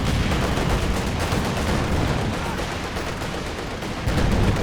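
Dense, continuous battle noise from Company of Heroes 2 in a 4v4 match, with artillery and gunfire blending into a loud, unbroken roar with a heavier surge at the end.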